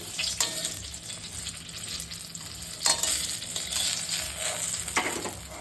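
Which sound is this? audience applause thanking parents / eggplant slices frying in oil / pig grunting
eggplant slices frying in oil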